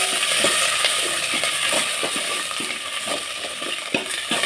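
Onions sizzle steadily in a hot pan for a village-style thattai payaru kuzhambu, with dense frying crackle and soft stirring scrapes recurring throughout.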